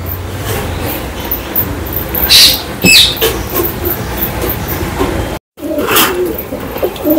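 Premium high-flying pigeons give a few brief, soft calls and flutters, mostly faint against a steady background hum, with one short gap of silence.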